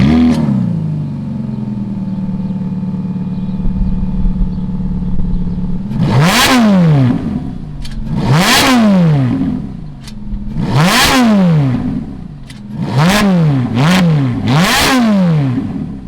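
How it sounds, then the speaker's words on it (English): A 2005 Ferrari F430 Spider's naturally aspirated V8 idles steadily, then is revved hard in a series of loud, close blips, each rising and falling sharply, with the last few coming in quicker succession. "Let's fire up this naturally aspirated V8 and see what it sounds like."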